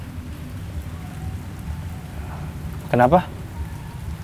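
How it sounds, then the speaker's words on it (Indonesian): Rain falling steadily outdoors, a soft continuous patter in the background, with a brief spoken voice breaking in near the end. "Hujan."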